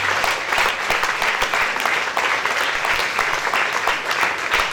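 A church congregation applauds and cheers loudly for Jesus, steady dense clapping filling the room without pause, a close and even roar of hands and voices.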